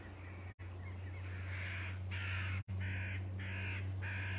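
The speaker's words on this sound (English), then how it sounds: "There's the crow." A crow caws repeatedly outdoors near a river, a run of harsh calls in short bursts over a steady low hum, moderately distant, with no speech.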